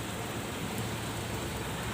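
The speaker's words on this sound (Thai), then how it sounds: "ก็ฝนตกครับ" Steady rain falls with a dense, even hiss at a work site where a crane truck is delivering pipes, continuous and moderately faint with no talking.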